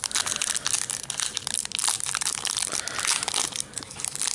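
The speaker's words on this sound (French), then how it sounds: "je vais vous ouvrir un booster Magic Destin Reforgé" A Magic: The Gathering booster pack wrapper being torn open for the Fate Reforged set, a dense, continuous crinkling and crunching of foil plastic lasting several seconds, close and fairly loud.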